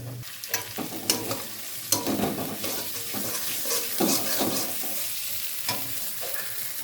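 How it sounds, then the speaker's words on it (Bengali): Onion, green chili and ginger-garlic paste with turmeric sizzle steadily in a hot pan for egg curry, with repeated spatula stirring and scraping cutting through the continuous frying hiss. "ভালো করে এটা ভেজে নিতে হবে, যাতে পেঁয়াজ আর রসুন এগুলোর কাঁচা গন্ধটা যাতে"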